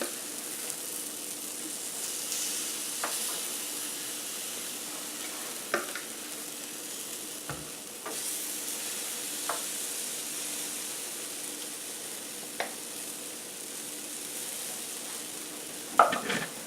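Oat pancakes cooking in a pan, a continuous soft sizzle with occasional faint clicks and taps of a utensil, steady and close, with a louder clatter near the end.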